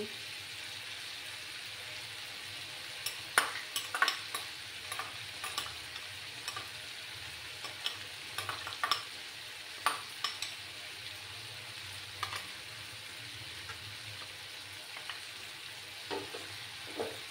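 Mustard, grated coconut and green chili paste being stirred and fried in a pan for a cauliflower-stem chorchori, a soft steady sizzle under scattered scraping taps of the spatula, with no talk.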